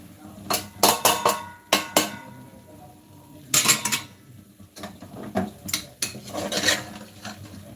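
Clattering spoon strikes and scrapes against a pan while biryani meat curry is sautéed with chilli powder, biryani masala and turmeric, sharp irregular clanks in bursts between quieter stirring, close by.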